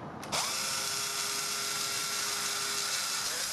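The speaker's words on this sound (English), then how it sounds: "These step bits are really great for drilling through this soft plastic material." A power drill drives a step drill bit into soft plastic while a daylight sensor is fitted to a 2018+ Honda Gold Wing: a brief click, then a steady, close motor whine with a grinding cut.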